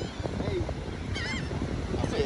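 Geese honk several times at a beach, short nasal calls rising over wind and low background noise.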